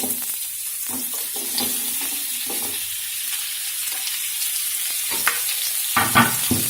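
Chopped onions, three medium ones, fry and sizzle in a pan for a curry, a steady close hiss broken by scattered crackles and stirring scrapes, with no talking.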